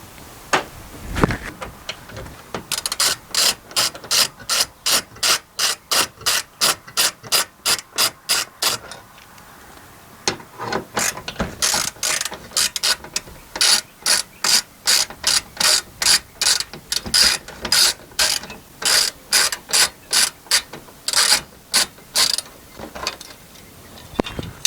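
Ratchet wrench removing bolts from a metal bracket inside a ProMaster van: repeated bursts of rapid, crisp ratcheting clicks, close and steady, separated by short pauses, with no talking.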